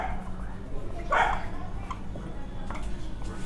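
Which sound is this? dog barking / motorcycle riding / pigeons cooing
dog barking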